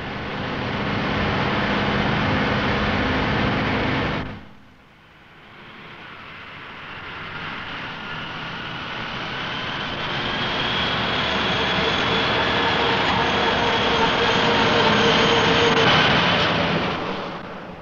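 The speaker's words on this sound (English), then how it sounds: "This tank transporter is driven round a test track for many hours" A military tank transporter driven round a test track, a loud steady engine roar that dips briefly then swells back and holds close for a long stretch.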